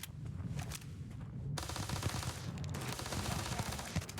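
Sustained machine-gun fire in the game Starfield rattles loudly and continuously, bursts running together with a brief shift in tone partway, close and dominant with no talking.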